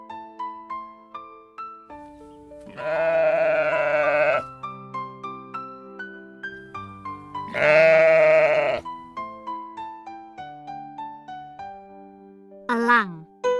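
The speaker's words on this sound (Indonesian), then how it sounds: "Domba." Sheep bleating twice in long, loud wavering calls over a light plinking children's melody, followed by a brief high sliding sound near the end.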